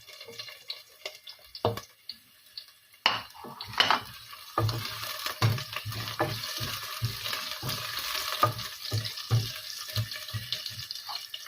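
Ginger and celery stirred together in a hot pan with garlic while cooking mongo, a run of scraping stir strokes and clatters over a steady sizzle, close and fairly quiet, with no talk.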